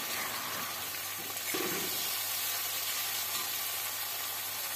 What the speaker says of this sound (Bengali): তো মাছগুলি আমি এপিট ওপিট করে সব মাছগুলি ভেজে নিচ্ছি।